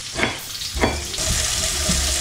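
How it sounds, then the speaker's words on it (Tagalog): Onion sautés in a pan with a close, steady frying hiss, broken by a few soft clinks of stirring near the start. "Gisa na ako ng sibuyas."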